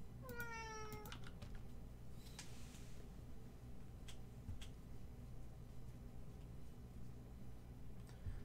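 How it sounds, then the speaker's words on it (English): A cat gives a quick series of rising, pitchy meows near the start, followed by faint clicks and taps over low background hum. "Sorry, something up with cats."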